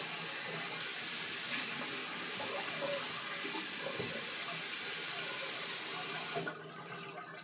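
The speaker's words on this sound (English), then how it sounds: "I'm going to do one last rinse with warm water." A bathroom tap runs warm water for a final rinse after a double-edge shave, a steady close rushing stream that holds for several seconds, then cuts off near the end leaving faint drips.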